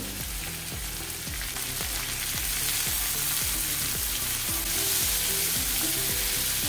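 Tomatoes sizzling and frying in a pan with softened sliced onions for mushroom masala, a steady dense crackle with repeated rhythmic stirring scrapes, loud and close, no talk.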